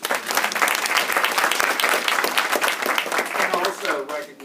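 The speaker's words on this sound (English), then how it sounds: "a little round of applause for her" Dense, loud applause from a crowd at a Capitol Hill credit union cherry blossom competition, rapid overlapping claps sustained for several seconds and then thinning out at the end.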